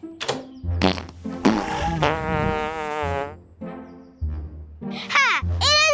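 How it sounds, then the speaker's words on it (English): A fart box toy lets out a string of loud, close, buzzy farting blasts in quick bursts with short gaps between them. "It is a fart box."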